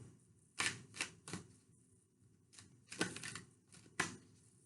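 Tarot cards being shuffled upside down give several quick, crisp riffling bursts in irregular clusters, close and fairly quiet, with soft room tone between them.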